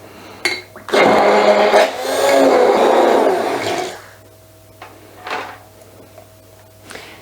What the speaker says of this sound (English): then just whiz it up with my stick blender